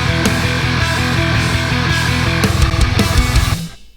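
Dense metal production playing loud, with fast double kick drums and crashing cymbals under thick distorted guitars and bass, driving steadily for a few seconds before cutting off abruptly.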